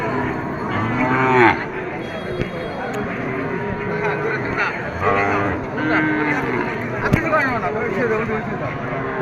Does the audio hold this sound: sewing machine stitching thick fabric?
no